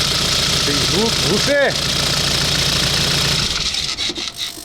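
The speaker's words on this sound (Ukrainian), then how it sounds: "Знову Nissan Navara і сторонні шуми в двигуні." A Nissan Navara YD25 diesel engine with a worn upper timing chain idles close by with a rattling, ticking clatter, while someone speaks briefly over it.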